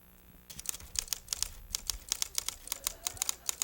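Rapid, uneven mechanical keystrokes from a manual typewriter, sharp clacks in a steady burst after a brief quiet start, close and fairly loud.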